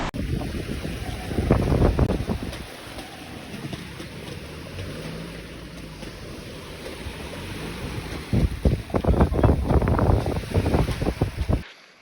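Strong beach wind roars and buffets the microphone in heavy gusts, easing to a steadier rush in between before surging again.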